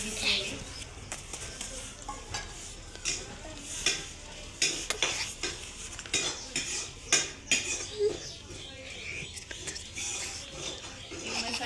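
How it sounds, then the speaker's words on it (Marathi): Paneer curry masala roasts in a pan over a wood-fired stove, with a spoon repeatedly stirring and knocking against the metal over a soft background sizzle and some faint voices nearby. "मस्त तेल सुटेपर्यंत हे भाजून घ्यायचं"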